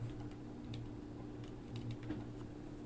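Soft, quick keystrokes tap out a short number on a computer keyboard, close but fairly faint over a steady low hum.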